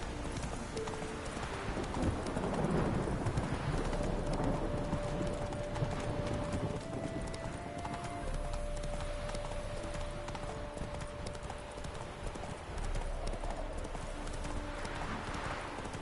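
A horse's hooves clip-clop at a steady trotting rhythm during a ride in The Witcher 3, soft and even against a low background hum, with no other prominent sounds.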